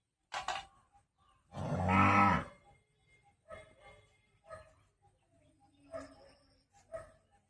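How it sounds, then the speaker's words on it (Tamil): A newly bought cow at a village farm lets out one loud, drawn-out moo near the middle, with shorter animal calls and brief sounds before and after in a quiet outdoor setting. "புது மாடு ஃப்ரெண்ட்ஸ், புதுசாக வாங்கிட்டு வந்தோம்."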